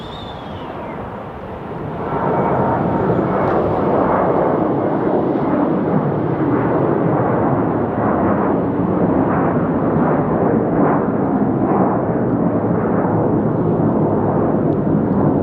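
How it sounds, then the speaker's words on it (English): A JetBlue Airbus A320 jet at Salt Lake City International rises from a quieter hum into a loud, sustained roar as it powers up for takeoff, heard from a distance outdoors as a broad, steady rumble. "we check out JetBlue getting ready to take off to JFK on an Airbus"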